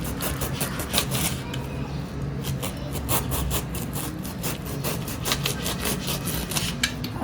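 A knife slices a raw jackfruit into small rounds, producing soft, repeated rasping cuts at a steady rhythm, close and quiet, with no talking.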